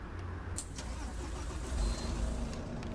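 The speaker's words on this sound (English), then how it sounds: "let's turn on the engine" A Volvo B9TL Gemini 2 bus engine in the OMSI 2 simulator cranks into life with a low, steady diesel rumble that swells slightly partway through and holds, alongside a few faint clicks.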